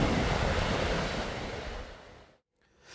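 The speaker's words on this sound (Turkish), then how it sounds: "Sahil yolunda dev dalgalar oluştu." Giant storm waves pound a Black Sea coastal road during a gale, a loud, continuous roar of surf and wind noise that fades briefly to near silence at the end.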